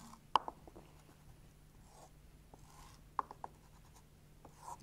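A pen sketches a tangent graph on paper in quiet, soft scratchy strokes with a few small taps, faint and close, against a low electrical hum.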